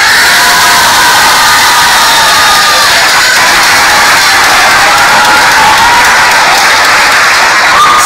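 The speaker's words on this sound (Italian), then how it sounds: "Ragazzi, fate sentire la vostra voce a Luca con un grande ciao e un applauso." Loud, dense burst of schoolchildren at a school in Milan cheering, shouting a greeting and applauding together, a sustained saturated roar of young voices and clapping close by.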